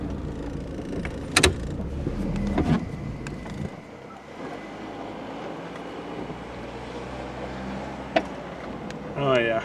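A car on a quick drive, its engine and road rumble running steadily at a moderate level, a few sharp clicks and a short burst near the end, while a voice talks partway through.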